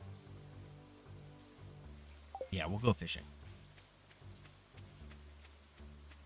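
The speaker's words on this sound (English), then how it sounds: "It is a rainy day, so it might be nice to go fishing." Steady soft rain falls in Stardew Valley 1.6 on the Meadowlands Farm, a quiet continuous patter throughout while a voice speaks briefly in the middle.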